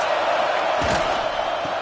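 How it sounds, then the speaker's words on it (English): A football stadium crowd cheers loudly in a dense, continuous roar with a brief surge of shouting, filling the whole short stretch. "They challenge this crowd to bring the energy, and I'd say they're doing that."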